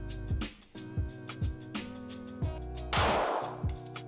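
A single sharp gunshot rings out in a sport-shooting setting, a short loud burst near the three-second mark that decays quickly, heard over steady background music with rhythmic beats.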